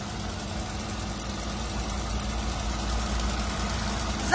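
A Ford EcoSport engine idles smoothly and evenly, a steady close low hum and rattle held at constant level for several seconds with no voices over it.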